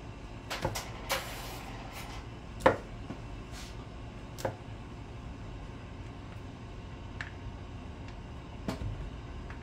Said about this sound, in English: you definitely want to cut these Snickers up somewhere it's nice and cool